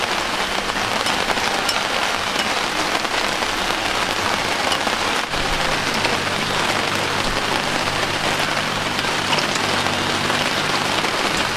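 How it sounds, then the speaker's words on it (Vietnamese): Heavy rain pouring steadily on a riverside home in the Vietnamese countryside, a dense, loud, close hiss of drops on surfaces with no break from start to finish. "Mưa này nè, mưa bong bóng vậy nè."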